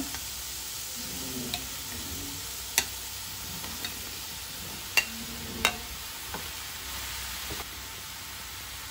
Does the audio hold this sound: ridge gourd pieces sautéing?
yes